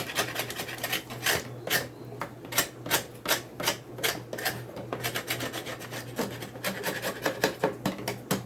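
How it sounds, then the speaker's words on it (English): Propolis is scraped off the tops of beehive frames in quick, repeated rasping strokes, close and fairly loud, in uneven bursts with short pauses between them. "Let me just scrape off the top. Propolis on the top here."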